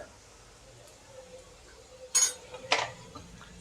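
A spoon stirring turmeric, red chilli and coriander-cumin powder into browned onions for dal tadka, heard as two sharp scraping clinks against the pan over a quiet kitchen background.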